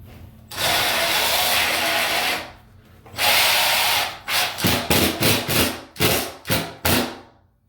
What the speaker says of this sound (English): I almost couldn't get the screw to stick into the plywood.